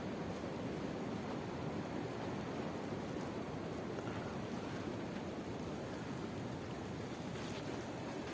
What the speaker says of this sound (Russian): Ветер шумит в деревьях